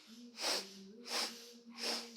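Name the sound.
four quick sniffs in, breathwork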